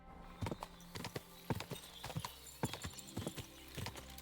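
Bandit horses in the video game Kingdom Come: Deliverance II clip-clop in a steady, fairly faint rhythm of sharp hoof strikes, several horses overlapping as they walk.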